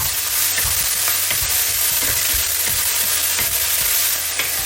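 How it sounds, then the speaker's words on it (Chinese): Chives and eggs stir-fried with sugar and salt in a hot pan, a steady loud sizzle broken by repeated scraping and clacking of the spatula turning the food, no voices. "然后加入1小勺糖，加入1勺盐。 然后翻炒2下"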